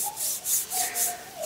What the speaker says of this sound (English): I'll give that a bit of a Scotch-Brite